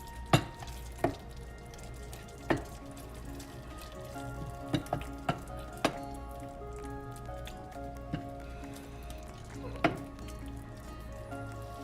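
Eggplants and green chili cooking in a Bengali mustard curry, a steady soft sizzle with occasional sharp pops and clinks, close and fairly quiet.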